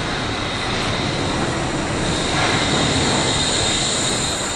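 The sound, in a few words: Wuppertal suspended monorail train passing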